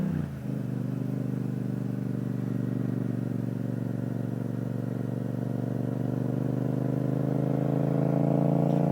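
A motorcycle cruising in third gear with a steady, loud engine drone that holds an even pitch and rises slightly toward the end, heard alone without talk.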